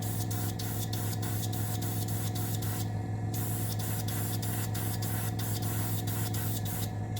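Spray paint hisses onto a model of a Russian Navy Project 955 Dolgoruky submarine in rapid repeated short bursts, a close, steady airy spray over a constant mechanical hum, with one brief pause.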